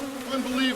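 Bees buzz steadily around a person standing among them, a close, continuous drone holding a low pitch for under a second.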